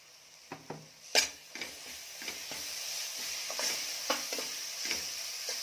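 Ginger garlic paste frying in masala for Kolhapuri mutton rassa, a steady close sizzle with repeated scraping stirs and a few sharper knocks of the spoon against the pan.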